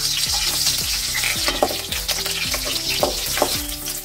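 Garlic and green chili sizzling hard in hot groundnut oil, a dense crackling hiss with quick stirring knocks against the pan, close up and alone without talk.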